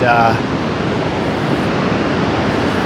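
Ocean surf at Cannon Beach, Oregon, a steady broad roar of breaking waves close by, mixed with wind buffeting the microphone, continuous and loud throughout.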